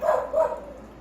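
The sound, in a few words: dogs barking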